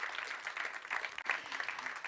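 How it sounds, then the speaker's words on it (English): Audience applause at a conference on EU enlargement readiness, a steady wash of clapping from a crowd lasting throughout with no pause, moderately loud and heard on its own. "Big round of applause, please."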